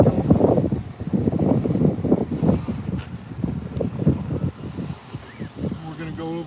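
Wind blowing outdoors at a candlelight vigil, a steady broadband rush buffeting the microphone for several seconds, heard under continuous talking from a nearby voice.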